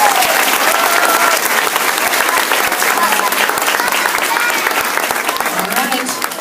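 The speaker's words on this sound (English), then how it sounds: "Let's give them another big round of applause." A school awards audience breaks into loud, dense applause, many hands clapping steadily and close, with some crowd noise mixed in throughout.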